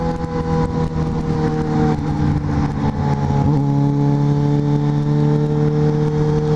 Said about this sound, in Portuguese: ela assustou-se foi com o barulho da XJ.